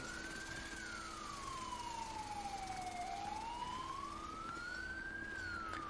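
Ambulance siren in GTA 5 on a fire department mod, a slow wailing tone that rises, falls and climbs again, steady and fairly clear over low engine rumble.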